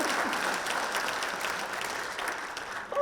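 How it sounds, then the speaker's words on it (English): An audience at the Cobb County State of the County event applauds and cheers, with a steady burst of clapping and a few whoops that carries on for a few seconds and begins to taper toward the end. "Who's that cheering loudly for my husband?"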